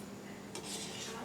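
Fried palm fritters being lifted out of hot oil with a metal utensil, a quiet low sizzle followed by a brief clatter of metal scraping against the pan.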